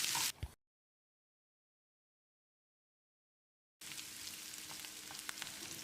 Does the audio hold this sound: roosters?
no